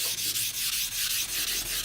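Close, continuous sanding of a stainless steel boat propeller, quick repeated back-and-forth strokes, a harsh scratchy rasp in an even rhythm.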